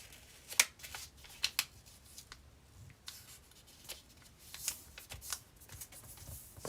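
Sheets of paper are creased and folded into a paper airplane, producing soft crisp rustles and sharp little snaps in irregular bursts, close and quiet with no talk.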